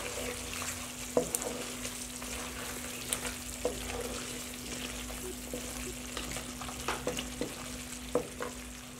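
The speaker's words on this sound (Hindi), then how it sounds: "फ्लेम को थोड़ा सा लो कर लेना है और इसको अच्छे से हम भून लेंगे।" Mutton sautés bhuna-style in a karahi over a low flame: a continuous close sizzle with frequent scraping stirs and sharp metallic clinks of the spoon against the pan, no voices.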